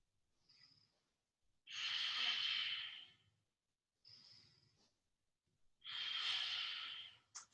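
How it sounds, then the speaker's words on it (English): Slow yoga breathing during a held pose: two long, loud breaths in and out, each lasting over a second, with softer breaths between them, close and without any talk. "We have 3 full breaths here."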